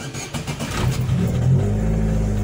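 A naturally aspirated Chevrolet Celta 1.0 VHC-E with weight reduction cranks briefly, fires up and revs, then settles into a loud, steady engine drone close by.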